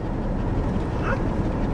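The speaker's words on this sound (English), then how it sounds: "She'll stop panting." A dog pants steadily up close, quick breaths blending into a constant low rumble of background noise.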